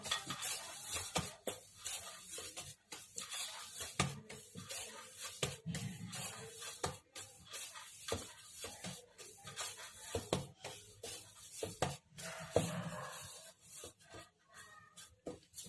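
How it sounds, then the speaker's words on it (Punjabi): Fenugreek paratha dough being kneaded by hand in a bowl gives a series of quiet, irregular rubbing and pressing strokes, with soft scrapes and occasional light knocks. "5 ਮਿੰਟ ਬਾਅਦ ਆਪਾਂ ਆਟੇ ਨੂੰ ਫੇਰ ਥੋੜਾ ਜਿਹਾ ਮਲ ਲਵਾਂਗੇ"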